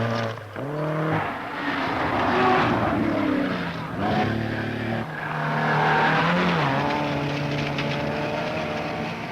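Rally car at a 1968 Finland rally stage, its engine rising and falling through gear changes as it races past and jumps, loud and close, with a commentator's voice over it at times.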